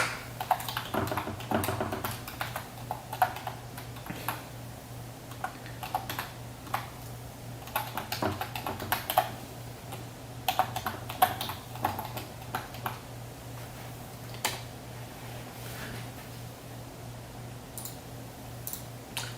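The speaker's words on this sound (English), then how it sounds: "Let me just type it out." Steady typing on a computer keyboard, quick irregular clicks of keys running throughout at moderate volume in a quiet room, with no talk.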